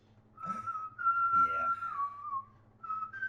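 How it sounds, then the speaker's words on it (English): Triple H whistles a sustained melodic tune during his entrance in a wrestling video game, a clear near whistle over a low background hum with short pauses. "He's whistling right now."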